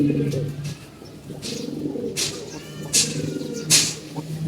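A pigeon coos in deep repeated rolls close by, with soft background noise and brief sharp sounds between calls; faint voices occasionally come through.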